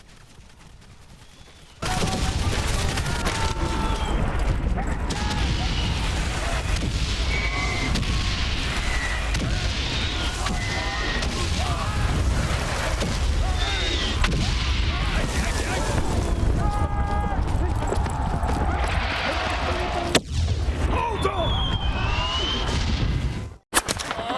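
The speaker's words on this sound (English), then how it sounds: "avoiding all the gunfire and bombs as you cross." Gunfire and explosions in the video game Valiant Hearts: Coming Home erupt in rapid bursts and booming blasts, nearly nonstop, with a person talking over the chaos.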